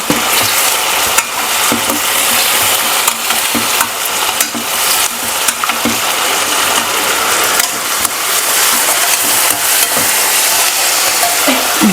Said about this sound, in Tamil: வேக வச்ச வாழைக்காவை சேர்த்துக்கலாம்